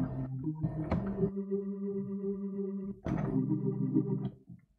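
A synthesized organ plays sustained chords with a buzzy, slightly distorted tone, one held chord giving way to another.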